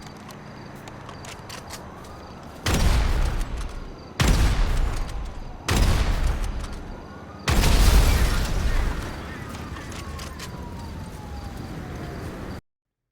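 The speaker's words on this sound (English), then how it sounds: "16 explosive sniper shots to the engine" Four heavy explosive booms from a video game sniper rifle land a second or two apart, loud and close, over a constant low background rumble.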